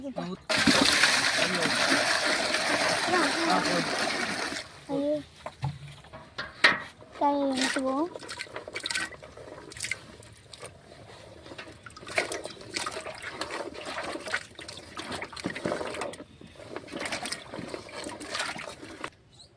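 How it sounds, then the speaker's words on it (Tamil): A loud rush of water poured for several seconds while cooking vegetable aviyal in a village kitchen, followed by splashing, clattering and rinsing sounds while people talk nearby. "தண்ணி எடுத்து ஊற்று."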